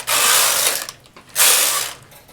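A knitting machine carriage is pushed across the needle bed for two rows, making two loud, rasping mechanical sweeps separated by a short pause.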